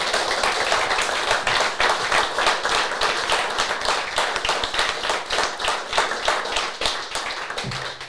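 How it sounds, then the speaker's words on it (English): A live podcast audience gives a round of applause for a community charity foundation, steady rhythmic hand clapping from a moderate-sized crowd, sustained throughout and tapering slightly near the end. "Can we have a little round of applause for the Saints Foundation?"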